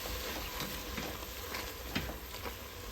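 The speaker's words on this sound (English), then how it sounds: "we're going to brown this sausage" Sausage browns in a hot pan for jambalaya, giving a steady close sizzle and crackle of frying with occasional stirring scrapes and no talking.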